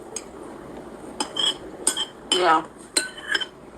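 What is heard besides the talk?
serving spoon scraping a bowl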